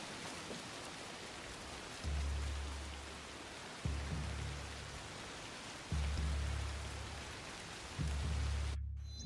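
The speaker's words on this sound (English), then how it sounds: "It's still raining" Steady rainfall in the video game Assassin's Creed Shadows: a continuous dense hiss with low rumbling swells recurring every couple of seconds.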